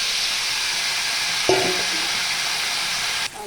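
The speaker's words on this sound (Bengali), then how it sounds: "এখন আমি পটলগুলি সুন্দর করে ভেজে নেব" Pointed gourd and potatoes frying in oil with turmeric give a steady sizzle throughout, with a brief clatter of utensil contact midway and a slight drop in the hiss near the end.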